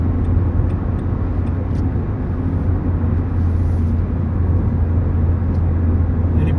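Renault Clio 2 Phase 2 1.6 16V Privilège engine while driving, a steady low drone with road rumble heard from inside the car, constant and unbroken.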